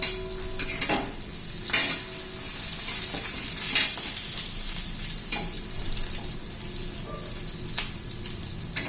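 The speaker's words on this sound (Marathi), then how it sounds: "थोडी कोथिंबीर पण घालून घेऊया कोथिंबीर परतून घेऊ" Chopped coriander sautéing in a pan for green tomato chutney, a steady soft sizzle with occasional sharp scrapes and clinks of a stirring spoon, close and without talk.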